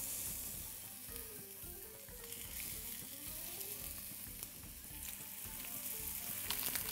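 Zucchini slices fry in olive oil in a pan for a festive appetizer, giving a steady, soft, close sizzle with faint crackles throughout and no talking.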